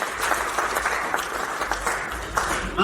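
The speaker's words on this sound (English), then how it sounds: "Can you clap for him?" An audience at a Ugandan medical laboratory association annual meeting applauding in a hall, a dense, steady wash of clapping from many hands that stays loud throughout.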